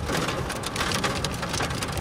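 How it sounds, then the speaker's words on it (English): Torrential rain hammers down in a steady, dense roar with no pauses, loud and close, like a downpour drumming on a surface during a hailstorm on Tasmania's east coast. "And torrential downpour."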